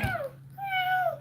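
Two cat meows come close together, a short one followed by a longer drawn-out cry, loud and near over a faint steady hum.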